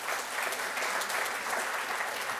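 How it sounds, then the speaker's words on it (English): An audience at a university keynote address claps in a steady, dense burst that stays even and fairly loud for its whole length, with no voices heard. "Give me a round of applause for that, for reading."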